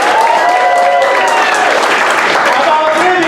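A crowd claps continuously at a live stage show, loud and close, the dense applause holding steady with a few voices and cheers mixed beneath it.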